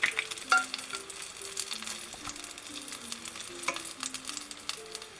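Fish frying in hot oil for a restaurant-style Kerala fish molly, a steady close sizzle and crackle with a few stirring scrapes, heard alone without talk.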